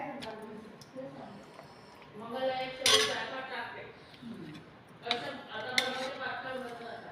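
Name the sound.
dishes and cutlery clinking while serving thali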